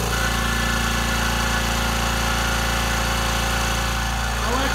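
A garage air compressor switched on through a smart plug runs steadily and loudly throughout, a continuous mechanical drone with a rapid pulsing chug and no speech.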